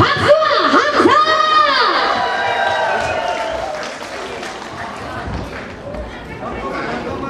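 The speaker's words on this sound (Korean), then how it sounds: "힘차 박수와 함성!" Audience applause and cheering welcoming a singer on stage at a Korean elementary school alumni festival, loud clapping and a whooping voice at first, then steady clapping with crowd chatter fading in.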